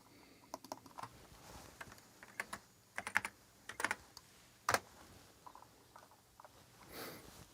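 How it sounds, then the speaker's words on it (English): Keyboard shortcuts being typed on a 1990 Atari ST computer keyboard during MIDI music editing: scattered quiet key clicks, single presses and short clusters with pauses between, close and faint, without talk. "I can also use these keyboard shortcuts here."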